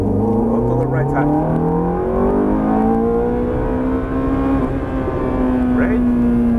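A sports car accelerates hard at full throttle on a driving experience in Mexico, its engine note climbing steadily in pitch through a long sustained pull, loud and close, with an instructor's voice talking over it.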